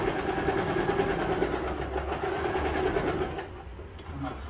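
An overlocker stitches the cuff edges of a tracksuit sleeve, a close, loud, fast steady hum with a rapid mechanical chatter that slows slightly near the end.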